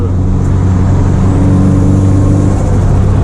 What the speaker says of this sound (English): Turbo noises!